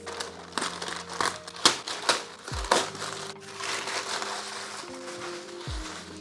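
Black plastic wrap crinkles and crumples as a mechanical keyboard package (Akko MonsGeek FUN60) is unwrapped up close, with sharp rustling bursts and tearing crackles, louder in the first half.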